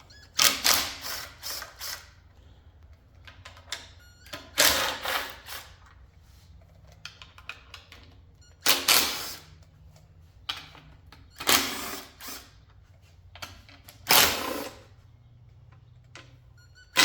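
Hand tools ratchet and clink while valve covers are removed from a Ford 351W engine, several short bursts of metallic clicking and clatter separated by quiet pauses, close and moderately loud.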